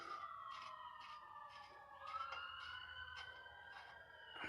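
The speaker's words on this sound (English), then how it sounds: "There's a siren." Emergency vehicle siren outside, a faint distant wail sliding slowly in pitch over several seconds, with rhythmic tapping and clicks closer by and no talk.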